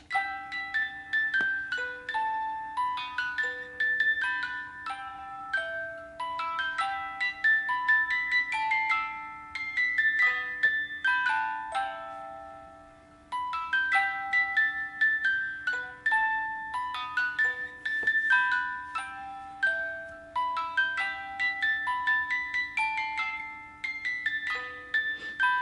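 A wind-up Sailor Moon music box plinks out the Sailor Moon theme song, clear metallic comb notes in a steady melody, close and alone, with a slight pause before the tune repeats.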